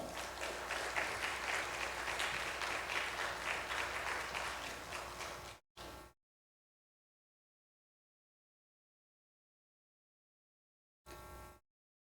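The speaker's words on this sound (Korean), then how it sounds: "큰 박수로 맞이합시다." Congregation applauding at a Sunday afternoon church service to welcome a visiting pastor: dense, steady clapping from many hands fills the room for about five seconds, then stops, with two short bursts later.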